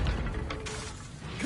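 A Confringo spell cast in Hogwarts Legacy, a brief mechanical whoosh with crackling rattles over a low rumbling game background.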